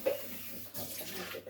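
Just-boiled water poured into a chocolate cake mix with sugar, a steady splashing pour lasting about a second and a half, close by with no talking.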